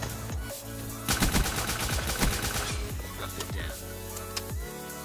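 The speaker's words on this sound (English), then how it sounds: "I've never used this gun before in my life, but it's a lot of fun right now." Rapid bursts of gunfire from a newly tried weapon in Call of Duty: Black Ops 3, loud and close, with dense repeated shots and echoing tails, broken by brief pauses, and no speech.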